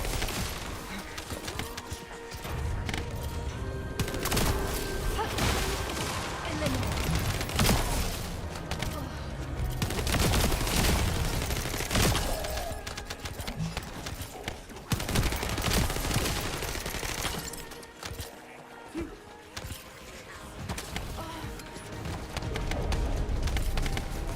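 Rapid bursts of video-game gunfire aimed at the player rattle in repeated volleys with short pauses, backed by a busy game soundscape and occasional cooing bird sounds.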